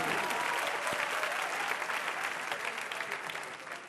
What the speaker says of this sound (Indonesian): Beri aplaus lagi dong.